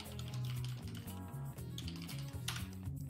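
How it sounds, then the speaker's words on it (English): Rapid typing on a computer keyboard during a casual online game session, with a dense, fast patter of key clicks continuing steadily under low background sound. "Typing hysterically."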